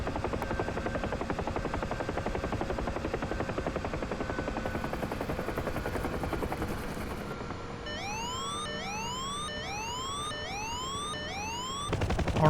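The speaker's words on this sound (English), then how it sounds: "you can safely land a free-falling helicopter with a dead engine" Simulated helicopter descending with a dead engine in autorotation to a landing; a steady broadband rotor and airflow roar with faint tonal hum runs throughout, then sweeping rising whistles repeat near the end before a louder burst at touchdown.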